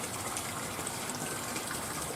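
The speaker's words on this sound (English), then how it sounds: "I added an extra pump over there in that downspout right there." A pump pushes water out of a downspout into a natural pond converted from a swimming pool, giving a steady, broadband gushing rush that holds even and continuous throughout at moderate loudness.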